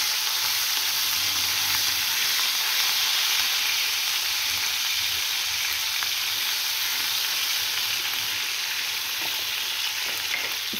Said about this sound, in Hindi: इसके साथ ही हम इसको ज़रा फ्राई करेंगे।